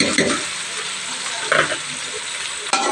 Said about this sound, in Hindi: अब उस ऑयल में ये प्याज डाल देंगे